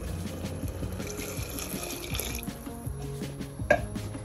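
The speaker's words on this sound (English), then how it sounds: "Now we will add a water." Water from a kettle, boiled beforehand, is poured into a pot of lentil soup with leeks, a steady liquid wash and trickle with a brief louder splash near the end, close by with no talk.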